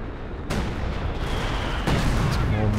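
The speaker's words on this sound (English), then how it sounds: "Some more major artillery coming in." Artillery barrages in the World War II strategy game Company of Heroes 2 thunder as dense, rumbling booms, with two heavier impacts landing over a continuous roar of battle.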